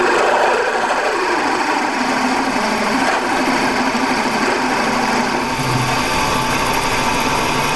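A mini lathe drilling a part, with a steady high-pitched motor whine and continuous grinding, cutting noise, close and constant throughout, with no talking.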